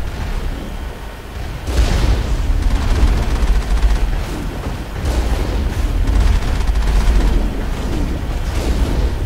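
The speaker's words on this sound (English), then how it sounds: "The lead angle with this cannon is a little awkward." Cannon fire and booming blasts from the video game Mass Effect, loud and continuous, with dense rumbling impacts that swell after the first couple of seconds and keep going throughout.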